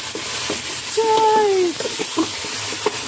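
Pork sautés in a pan for sinigang, a loud steady sizzle with scattered stirring taps and a brief tonal squeak partway through.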